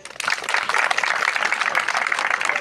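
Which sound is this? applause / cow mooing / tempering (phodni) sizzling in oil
applause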